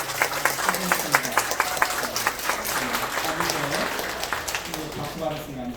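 A church congregation at a Sunday service applauds a returning young member after ROTC training, with a burst of sharp clapping that settles into a steady patter while a voice talks over it.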